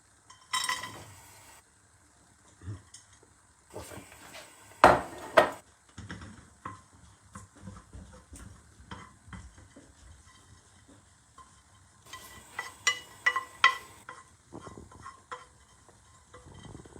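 An ingredient roasting slowly in a little ghee in a pan, with a quiet intermittent sizzle, soft stirring scrapes and occasional louder clinks and bursts against long near-silent stretches.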